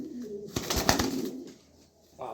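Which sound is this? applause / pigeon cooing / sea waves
pigeon cooing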